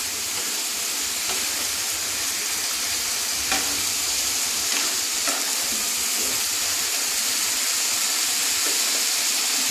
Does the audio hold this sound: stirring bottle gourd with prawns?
yes